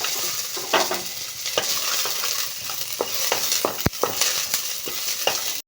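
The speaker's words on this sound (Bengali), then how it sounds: "আদা রসুন দিয়ে একটু ভেজে নিয়েছি।" Ginger and garlic, added after chana and urad dal, sizzle steadily in hot oil with repeated sharp scraping stirs of a spatula against the pan, one loud knock near the middle.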